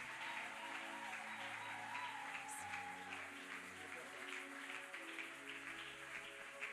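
A church congregation stands and applauds for a pastor, steady sustained clapping over music and crowd noise, continuous throughout.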